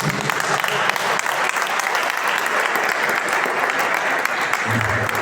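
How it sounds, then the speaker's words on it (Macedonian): Sustained applause from a large crowd, steady and dense clapping throughout, with a low murmur of voices underneath. "Еден аплауз посебно за него."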